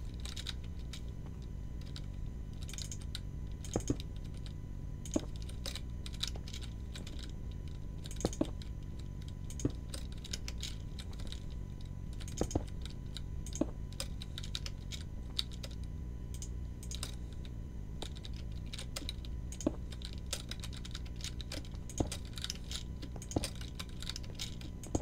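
Computer keyboard typing during a Minecraft session, quick irregular bursts of sharp clicks and key taps running steadily throughout over a low background hum, fairly close and moderately quiet.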